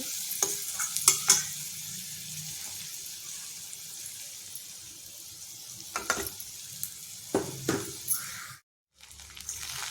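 Soaked flattened rice (avalakki) stirred in a hot oiled pan, soft sizzling under scattered scraping spoon strokes, with a few louder clanks and a brief silence near the end.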